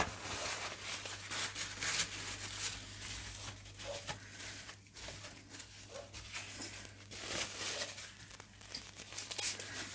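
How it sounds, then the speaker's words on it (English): A paper towel rubs and crinkles across a gel plate print, wiping away excess paint in continuous close scratchy swipes with papery rustling and brief pauses, over a low steady hum. "I'm going to wipe that excess off now with a paper towel"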